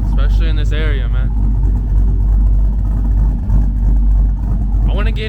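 A tuned Chevrolet Silverado pickup's engine drones steadily and loudly up close, a deep continuous rumble that barely changes, with a voice talking over it at the start and again at the end.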